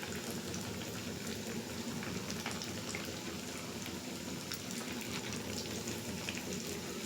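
Garelu, vadas made from leftover rice, frying in hot oil: a continuous dense crackle and fizz with scattered small pops, steady and close, with no talk.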